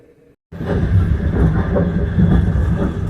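A moving train's steady, close rumble with clattering undertones, heard from inside the train at Myronivka station, Ukraine, starts after a brief quiet moment and continues loudly throughout.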